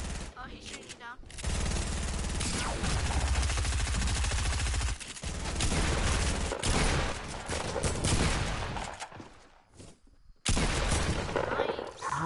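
Rapid bursts of gunfire in a fast-paced console shooter duo match, loud and close, with sustained volleys broken by short gaps and a final renewed burst.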